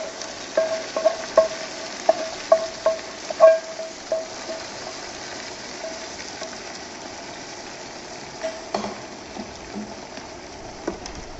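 A seasoned chả phụng hoàng meat mixture fries in a pan with a low, faint sizzle, broken by a run of sharp spatula scrapes and taps in the first few seconds, then a few scattered clinks.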